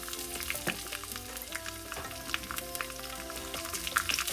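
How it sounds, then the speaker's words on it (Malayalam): Ginger and green chillies fry in a pan for a Kerala-style moru curry, giving a steady close sizzle with crackling pops and occasional stirring scrapes, without any talk. "ഈ ഇഞ്ചിയും പച്ചമുളകും നന്നായിട്ട് മൂപ്പിച്ചെടുക്കണം"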